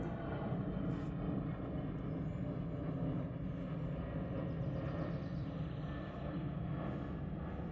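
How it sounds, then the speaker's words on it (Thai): A fixed-wing airplane passes overhead on a mild outdoor morning, a steady, distant low engine roar that holds evenly throughout with no talking. "เครื่องบินผ่านเนี่ยค่ะ"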